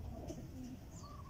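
Racing pigeons coo softly at close range, a few low, rounded calls that are quiet and isolated, with no voices over them.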